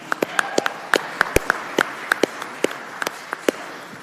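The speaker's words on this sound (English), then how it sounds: "Let's have a round of applause for Susan." Sparse, distinct hand claps ring out in a formal caucus room at a forum as the audience applauds a speaker named Susan, a thin scattering of individual claps rather than full applause.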